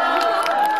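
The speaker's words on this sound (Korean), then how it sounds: "박수 한번 주세요." An audience cheers and claps for a girl group at a college festival concert, a brief, dense burst of crowd noise heard close and loud that cuts off at the end.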